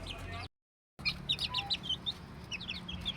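Backyard-raised chickens cluck and peep in quick, repeated bursts over a low outdoor hum, after a brief dropout of total silence near the start.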